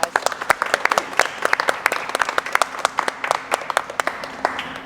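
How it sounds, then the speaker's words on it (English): A modest audience claps for outgoing officers at a president installation ceremony, a scattered round of sharp individual handclaps spread evenly for about five seconds in a room. "Let's give them a little round of applause."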